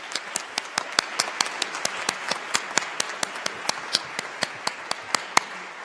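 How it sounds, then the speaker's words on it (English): Scattered handclaps from a small audience at an awards evening, distinct sharp claps at an uneven, fairly steady rhythm, close and clear, with no talking. "Maybe we should give her a round of applause in her absence."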